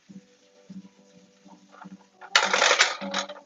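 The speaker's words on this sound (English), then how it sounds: "You want to make sure to whisk this as soon as it gets in here." Half a cup of flour being whisked into a hot pan on a stovetop, with soft scraping and clinking at first, then a loud, busy burst of rapid metallic whisk strokes against the pan.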